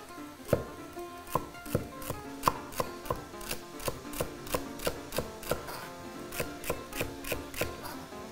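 Steady knife chopping of celery on a board, a brisk run of sharp crisp strikes at an even rhythm, close up with no talking.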